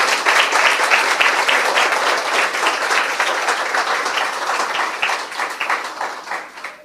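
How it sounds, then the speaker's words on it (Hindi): A congregation at a Christian sermon breaks into loud, sustained clapping, with many hands beating close together for nearly seven seconds before easing slightly at the end. "आइए यीशु के लिए जोरदार ताली बजाएंगे।"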